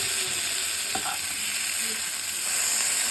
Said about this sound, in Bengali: বেগুনগুলো আমার ভাজা হয়ে গেছে, আমি বেগুনগুলোকে এখন উঠিয়ে নেব।